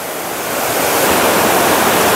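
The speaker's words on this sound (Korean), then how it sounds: "이 백년 폭포 하루를 백년을 하루처럼 물소리가 아주 시원하게" Loud, rushing water of the Baengnyeon waterfall on Unaksan, South Korea, swollen after monsoon rains, roars continuously, a broad steady wash of sound that swells slightly and holds.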